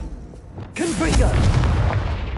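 A Confringo fire spell explodes in Hogwarts Legacy with a loud sudden boom and a roaring burst. A rumbling blast sustains it under game ambience and a voice casting the spell.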